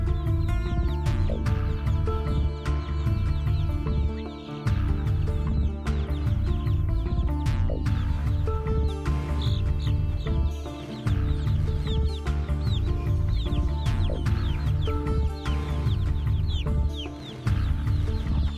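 Chickens cluck and fuss steadily inside a coop, several birds calling close by in busy overlapping bursts while an anaconda enters among them.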